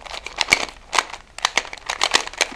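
Rapid plastic clicks and clacks from an old sudoku puzzle cube being turned, in quick irregular bursts, close and fairly loud.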